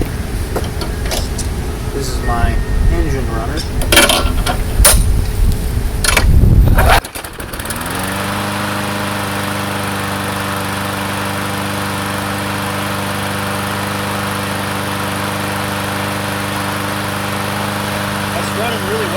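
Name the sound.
Craftsman push mower engine starting and running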